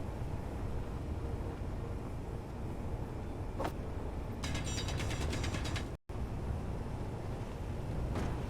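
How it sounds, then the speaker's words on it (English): Grinding and welding tool sounds from the Space Engineers video game: a steady mechanical hum with a burst of rapid, ratchet-like ticking in the middle and a few brief clicks, with no talking. "let me finish grinding, welding up the ones on metallics then"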